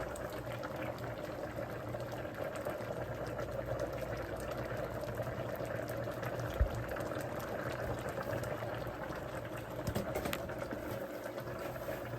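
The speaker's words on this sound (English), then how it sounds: "I just need to give this some time to simmer, and my stew peas will be all completed." Jamaican stew peas simmer in a pot with a steady, close bubbling hiss that holds at an even level throughout, broken only by a faint knock or two.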